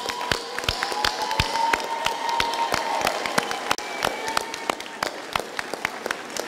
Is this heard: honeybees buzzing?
no